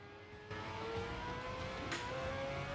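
A Porsche engine drones steadily as it passes in Gran Turismo 7, with a rising pitch and a continuous mid-level whir over an even background.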